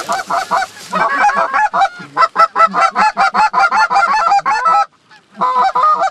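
In the video game Fowl Play, a flock of geese honks loudly and close, in rapid overlapping bursts that keep going almost without pause, with one brief gap near the end.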